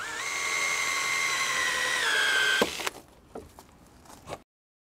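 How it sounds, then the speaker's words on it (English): Power drill whining steadily as it drives a screw into deck boards, pitch dropping slightly near the end before it stops with a small thud, followed by a few quiet clicks. "so you keep driving until you hear that little thud, and that's where the spline disengages from the screw"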